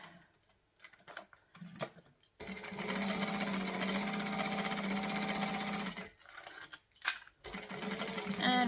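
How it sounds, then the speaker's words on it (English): A sewing machine top stitching along all four edges of fabric. After a few short clicks and handling sounds comes a steady, close run of rapid stitching for several seconds, then brief pauses and more short bursts of sewing. "now I'm going to top stitch that whole, all 4 sides, in fact"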